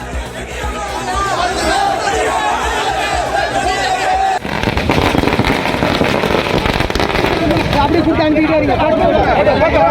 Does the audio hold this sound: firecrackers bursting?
yes